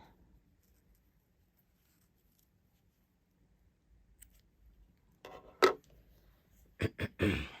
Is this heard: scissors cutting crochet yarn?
yes